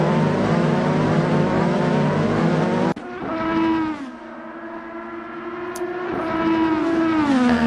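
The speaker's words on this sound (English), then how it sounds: "As we see Christoph Baronic heading through the S's there in his number 23 Carlin racing car." Simulated IndyCar racing engine from a Carlin car in Assetto Corsa at the Atlanta Grand Prix, a loud high-pitched wail that cuts abruptly, then drops in pitch through the S-bends and climbs again with faint tire squeal.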